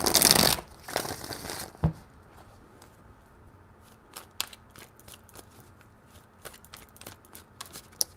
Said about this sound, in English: WMCH, 3 shuffles.